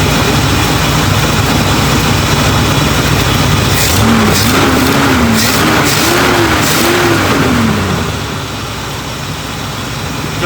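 A 1977 Chevrolet C20 truck engine fitted with a new carburetor runs steadily, a loud continuous low rumble with a rising and falling rev tone midway, heard close and without talk.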